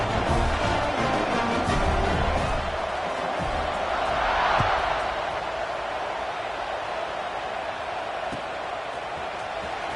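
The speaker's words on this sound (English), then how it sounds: "this crowd is buzzing after that last score" Stadium crowd in an American football video game, a steady loud roar and buzz filling the whole stretch, swelling briefly midway, with faint commentary-like voices underneath.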